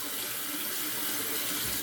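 A tap runs steadily into a sink while a wet shaving brush is wrung out, a close, continuous hiss of splashing water with no voices.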